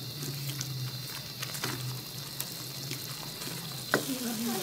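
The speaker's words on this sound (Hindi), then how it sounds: "इसे पहले अच्छे से भून लें आप" Garam masala frying in a kadai for a restaurant-style chicken kadai, giving a steady soft sizzle with a few faint scrapes and one sharp clink near the end; no voices.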